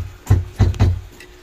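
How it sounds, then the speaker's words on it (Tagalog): Three punchy, booming kick drum hits played through a flat EQ, struck in quick succession and heard alone, close and dry. "Hit ko lang yung kick."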